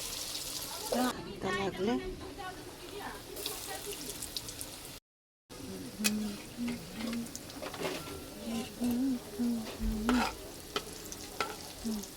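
Banana flower chops coated in breadcrumbs frying in hot oil, a steady close sizzle with occasional stirring and scraping, and birds cooing and chirping in the background, plus a brief dropout.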